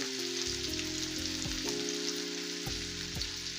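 Onions frying lightly in a pan for an egg korma, with a steady close sizzle and a few soft clinks of a utensil against the pan.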